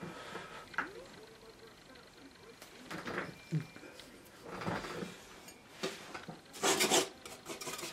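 An oil painting knife scrapes and drags across a board, giving several short rasping strokes that are faint and close, with soft handling noises between them.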